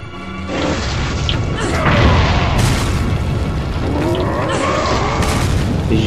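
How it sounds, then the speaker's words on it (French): A grenade goes off in the video game Resident Evil 4 Separate Ways, a loud, dense rumbling blast that sustains with layered crashing debris and roaring noise for several seconds, with no speech. "J'ai jette pour rien les grenades."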